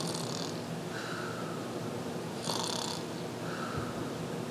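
A voice imitating snoring, slow drawn-out rasping inhales and softer exhales repeated a few times over a steady background hum.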